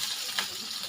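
Potatoes sautéing in a pan, a soft steady sizzle with a brief stirring scrape, close and quiet, no talking.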